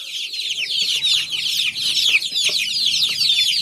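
Many baby chicks chirping and peeping densely and continuously close by, hungry before feeding, with a few low clucks beneath the steady high chatter.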